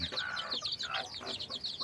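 A red junglefowl rooster kept free-ranging around a house gives a short burst of clucking calls, fairly close and moderately loud.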